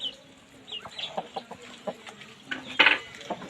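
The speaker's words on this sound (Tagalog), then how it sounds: "May naglilimlim akong manok." Soft, low clucking from a brooding hen, a series of short grumbling calls close by, with one sharper squawk near the end.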